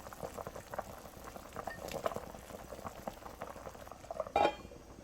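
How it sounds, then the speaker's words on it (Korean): A pot of samgyetang, chicken soup with ginseng and cheongyang chili, bubbles at a steady boil, with a soft continuous burble and one brief clink of metal near the end. "청양고추를 넣고 30분 끓일게요"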